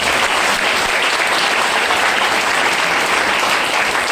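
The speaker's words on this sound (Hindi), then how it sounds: "मीटिंग खत्म हो गई, ताली जोरदार हो जाए" A seated audience at a business meeting breaks into dense, steady, enthusiastic clapping that holds at full strength throughout, with no talking over it.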